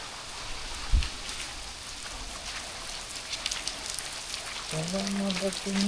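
Rain falling steadily in a waterlogged outdoor spot, a constant close patter with scattered drops hitting surfaces, a voice speaking briefly near the end.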